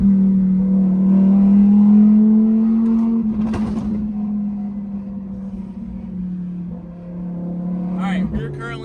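Audi R8 engine droning loudly and steadily close by, with a brief burst of revving around the middle and another near the end, while people talk over it.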